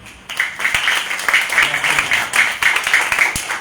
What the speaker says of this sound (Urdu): تالی بجا کے بتائیں